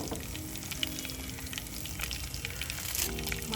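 Dried red chillies, four or five garlic cloves, mustard seeds and cumin fry in a little hot oil, making a steady, soft, crackling sizzle with no voices.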